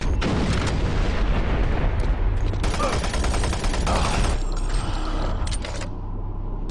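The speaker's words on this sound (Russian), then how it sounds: "Да, долбанные гранаты." Grenade explosions in the shooter Doom 3: dense, continuous rumbling blasts and crackling bursts, loud and close, with a deep low boom running under them.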